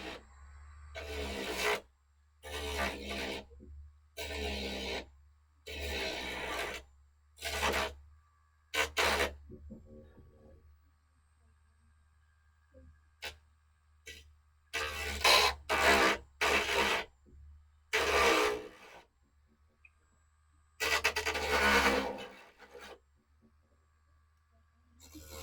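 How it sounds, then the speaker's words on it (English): A Dremel rotary tool fitted with a 1/4 inch sanding drum hollows out material, heard in repeated close bursts of gritty rasping separated by quiet pauses over a low steady hum. "So I'll do my Dremel with a 1/4 inch sanding drum"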